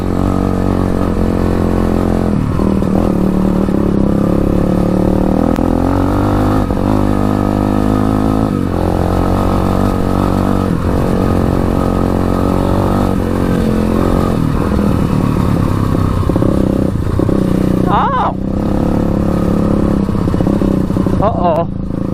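A Honda 200X on studded tires rides off-road, its engine droning steadily and close with shifting revs and clattering over rough ground, while a person talks over it.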